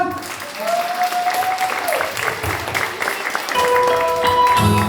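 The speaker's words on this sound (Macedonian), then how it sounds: "Аплауз за цела моја екипа!" An audience at a promotional event in Bitola applauding the team, a broad continuous wash of clapping with a voice talking and whistle-like tones over it.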